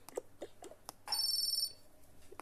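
A phone rings inside the Toca Boca game, a short electronic ringtone burst of about half a second with bright harmonic tones, set between soft tapping clicks in an otherwise quiet scene.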